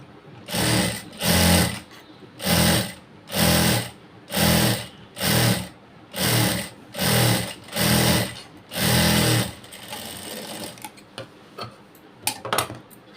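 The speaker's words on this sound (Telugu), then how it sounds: "ఇలా దీనిపైన పెట్టి స్టిచ్ చేయాలి" A sewing machine stitches blouse cloth in about nine evenly spaced bursts of rapid mechanical whirring, close and loud, followed by softer clicks and handling noises as the fabric is adjusted.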